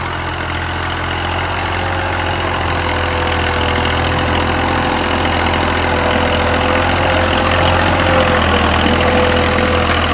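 A 1989 Massey Ferguson MF 240 tractor pulls a cultivator through hard ground, its diesel engine throbbing loud and steady at a constant low pitch throughout.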